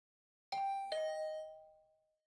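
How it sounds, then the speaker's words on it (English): Doorbell chiming twice in a ding-dong, two bright tones in quick succession that ring out and fade slowly, clear and alone in a quiet room. "The usual morning announcement was drowned out by the sound of my doorbell ringing over and over."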